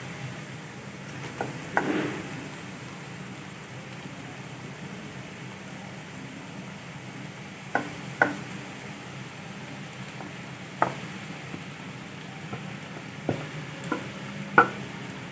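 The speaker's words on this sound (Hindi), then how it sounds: "तो अब हम बॉयल किए हुए चावल डालेंगे," Boiled rice stir-frying in a pan with already fried green onions and garlic: a steady low sizzle throughout, broken by a few sharp scraping and stirring knocks, close by and with no talking.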